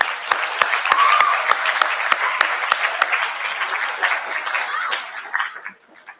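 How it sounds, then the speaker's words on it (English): Sustained applause from an audience at an eighth grade recognition ceremony, honoring faculty and staff: dense, steady clapping from many hands, fairly loud and even, tapering off near the end. "If we could give them applause, I'd appreciate that, please."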